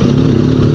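A BMW R9T motorcycle, left unused for five months, runs with a steady loud engine rumble and mechanical clatter throughout, close by with no talk.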